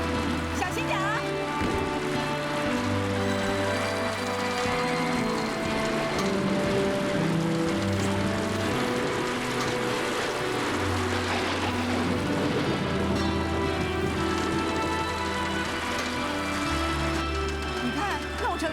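Heavy storm rain with strong wind pours steadily and loudly throughout, a dense continuous wash with a sustained low background drone and occasional bumps and clatter mixed in.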